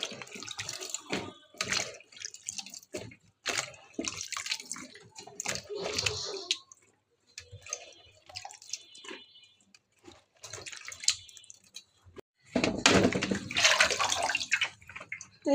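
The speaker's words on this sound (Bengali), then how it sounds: "এখন সবজিগুলো আমি ধুয়ে নিচ্ছি, আলু আর পটলগুলো ধুয়ে নিব ভালো করে।" Potatoes and pointed gourd are rinsed under a running kitchen tap, giving intermittent splashing and gushing water that ends in a fuller, steady stream, heard close by.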